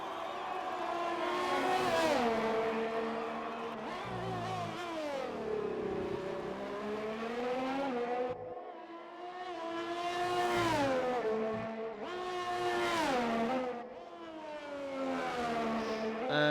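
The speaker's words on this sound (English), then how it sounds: "the Ferrari of Dominic Brezina coming down the long straight now as he comes down through the turn 11 and 12, hard on the brakes" A Ferrari race car in a racing video game, heard from onboard, revs hard through high gears, then drops pitch sharply on heavy braking and downshifts before accelerating again, repeating in loud, close engine sweeps.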